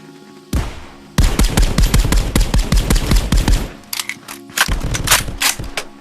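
Rapid SMG fire in a VR shooter game, a long loud burst of closely spaced shots followed by a pause and a few shorter bursts, with no talking.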